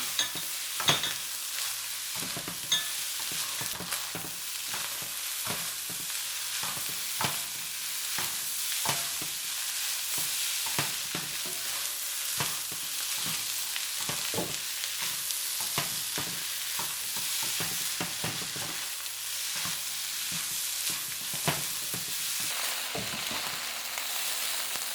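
Beef fried rice being stir-fried in a pan: a continuous close sizzle broken by repeated sharp scrapes and clacks of a utensil stirring, fairly loud and steady, with no voices.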